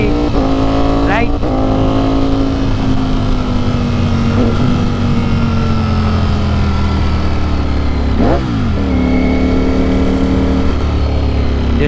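Engine of a Ducati Streetfighter hyper naked motorcycle under way, with quick-shifter upshifts and auto-blip downshifts as revs rise and fall, loud and steady beneath heavy wind noise, near and continuous.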